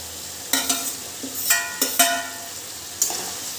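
Potatoes and soybean chunks are stir-fried in a spice paste, with several sharp scraping stirs of a spoon over a soft sizzle.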